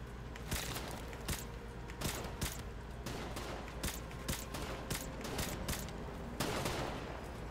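Rapid gunfire crackles through a Call of Duty 4 Modern Warfare campaign mission on Veteran difficulty, sharp shots in quick irregular bursts over a constant dense battle rumble, no voices heard.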